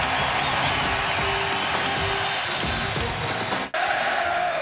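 Basketball arena crowd in Stillwater at an Oklahoma State game against Memphis, roaring loudly and steadily throughout a timeout, with a brief dip near the end before the din resumes.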